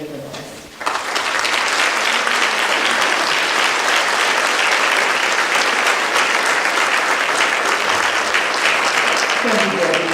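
Loud, sustained audience applause fills the room at a Yom Hashoah remembrance event as Dr. David Lindquist is welcomed, starting abruptly after a brief pause and continuing steadily for around nine seconds before tapering.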